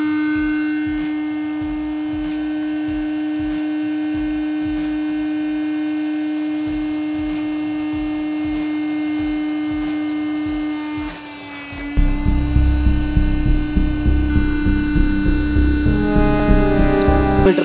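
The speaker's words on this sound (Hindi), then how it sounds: "वैक्यूम चेंबर से इसको हम सक कर रहे हैं धुएं को" A vacuum chamber pump draws beedi smoke through a cotton-packed setup, a steady electric hum with a rapid pulsing motor beat that shifts to a louder, rougher, rhythmically pulsing drone near the end.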